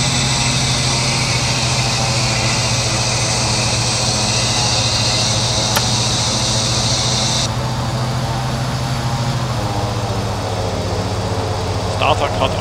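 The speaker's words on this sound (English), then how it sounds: "Start valve open, engine on." Turboprop engine of a Jetstream 41 in a flight simulator spooling up during start, a steady loud whine and low drone with a pitch shift partway through as the starter cuts out, with voices over it.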